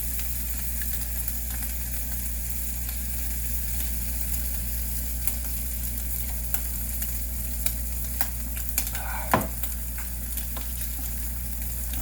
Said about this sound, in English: And now you're going to want to keep frying up more ham.